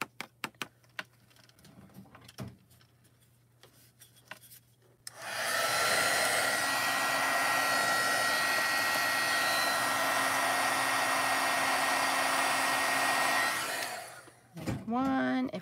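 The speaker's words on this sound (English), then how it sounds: "this is going to take a couple of layers of heat embossing here" A heat embossing gun melts gold embossing powder with a loud, steady blowing whir. It switches on after a few quiet seconds, holds for about nine seconds, then cuts off, leaving faint handling noises.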